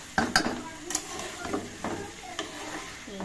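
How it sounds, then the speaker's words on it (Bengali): Potatoes with spices being stirred in a pan with beef, a scattering of scraping and tapping strokes from a utensil against the pan over a soft sizzle. "আলুটা দিয়ে খুব সুন্দরভাবে নেড়েচেড়ে মশলাগুলো মাখিয়ে নিব আলুটার সাথে।"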